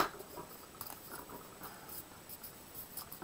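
Sheet of paper folded in half and then in half again, giving soft papery rustles and light creasing scrapes, close and quiet with no talking.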